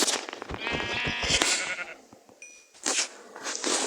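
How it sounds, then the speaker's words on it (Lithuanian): A Minecraft sheep bleats in a wavering, game-like tone over busy background sounds, followed by short high electronic tones and bright noisy bursts. "Avis."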